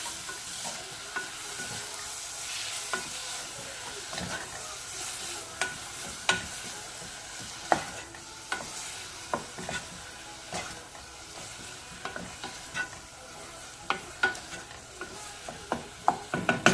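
A spoon stirs spinach curry with added salt in a pan, making soft scraping and sizzling with irregular clicks and knocks against the pan, fairly quiet and close, without speech.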